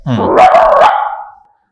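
A voice imitates a single dog, one drawn-out bark-like yowl lasting about a second, loud and close before trailing off into silence.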